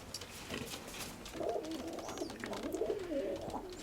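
A pigeon coos softly in repeated low, rolling phrases over a light background hum.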